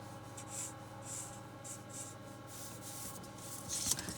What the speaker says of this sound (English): So I'm going to be sketching this myself. So first of all, I'm going to draw the front view.